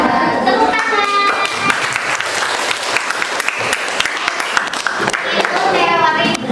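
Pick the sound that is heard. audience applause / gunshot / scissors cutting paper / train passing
audience applause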